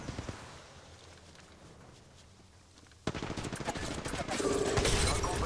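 Shotgun and weapon fire in Apex Legends Mobile. After about three seconds of near quiet, a sudden burst of sharp, close gunshots follows and continues loud and dense to the end.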